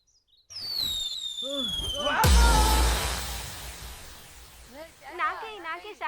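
A loud firecracker blast bursts out, followed by crackling and rumbling, with people talking and shouting over it.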